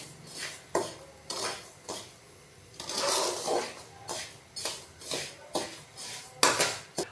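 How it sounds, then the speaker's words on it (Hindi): Spoon scraping and clinking against a pan as black chickpeas roast in salt, stirred slowly in repeated close, bright strokes with short gaps between them. "चनों को हमने नमक के अंदर आहिस्ता आहिस्ता इस तरीके से हिलाते रहना है"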